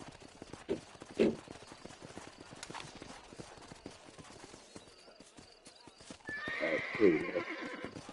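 Horse with hooves clip-clopping in a steady walking rhythm, punctuated by a couple of sharp neighs early and a longer whinny near the end, with a person talking throughout.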